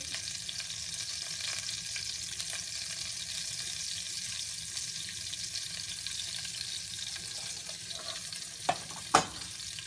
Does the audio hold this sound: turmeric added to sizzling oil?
yes